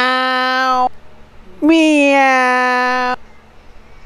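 A person loudly imitates a cat's meow twice at a lively Christmas party reunion among friends, each drawn-out voiced meow clear and close, with faint background chatter between them.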